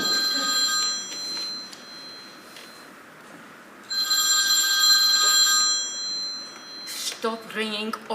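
A telephone bell rings in bursts of bright, trilling chimes during a stage play, two long rings separated by a pause, fairly close, with a voice briefly heard near the end.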